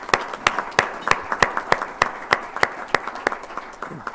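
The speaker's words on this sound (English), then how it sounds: "another round of applause for those ladies in the room here today" A room full of people at a Rotary Club luncheon applauds steadily, with individual claps standing out in a quick rhythm against a softer wash of clapping.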